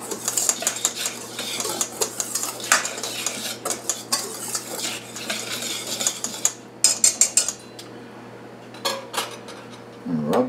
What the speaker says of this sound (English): And blend the sugar, the baking powder, and salt in with the flour.